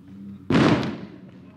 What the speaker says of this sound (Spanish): No sé por qué están tronando cohetes ahorita, pero lo que escuchan es cohetes.